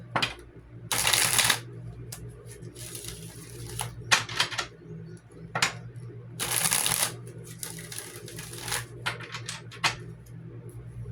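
Tarot cards are shuffled in several quick riffling bursts, close and crisp, separated by softer handling taps and pauses over a low background hum.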